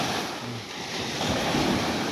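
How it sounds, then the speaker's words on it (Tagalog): Sea waves wash steadily at sunset, a broad continuous surf roar mixed with wind buffeting the microphone, fairly loud and unbroken, with no one speaking. "Wow, ang dagat."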